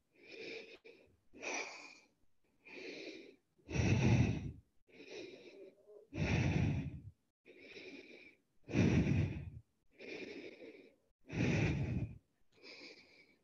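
Steady, deep breaths repeat roughly every second or so during a plank in a fitness bootcamp for over-50 cancer survivors, with heavy exhales alternating with softer inhales, close and clear with no talking.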